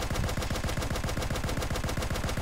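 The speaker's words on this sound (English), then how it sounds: "Gunshot sound effects." Rapid minigun fire and gunshots in the video game Team Fortress 2, a dense, loud, evenly spaced burst of rattling shots with no pauses.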